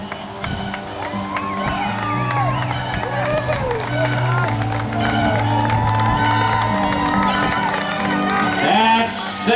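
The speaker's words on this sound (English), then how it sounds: "Yes, let's clap for these guys." Race crowd at a boys' elementary and middle school time trial clapping and cheering for passing runners, with whoops and shouts layered over steady applause and nearby talking voices throughout.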